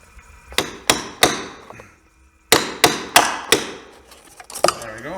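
Hammer blows on a punch driving a rivet out of a 2005 Summit snowmobile boot: three sharp close metallic knocks, a pause, then a faster run of four more strikes and a lighter final tap, loud and alone.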